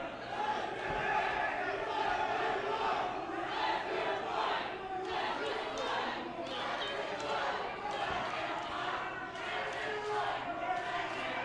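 Wrestling crowd roars and shouts continuously through a locker-room-clearing brawl between Stephen Michaels and Derek Neal, a dense, loud wall of arena noise with bursts of yelling and occasional thuds.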